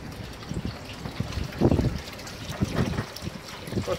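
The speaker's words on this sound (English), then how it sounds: "with the water being filtered through two concentric buckets" Water trickling in a small solar-powered aquaponics flood and drain system on an apartment balcony, filtered through two concentric buckets, with faint irregular dribbling and splashing bursts at close range.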